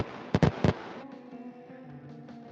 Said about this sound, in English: you're coming in like there are fireworks behind you